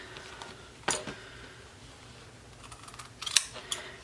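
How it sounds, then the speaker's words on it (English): Scissors cut fabric and interfacing at a 45-degree angle while adding a zipper pocket to a waistband: a few crisp, close snips, one near the start and a pair near the end, against a quiet room. "Cut at this 45-degree angle, but don't go through the stitching."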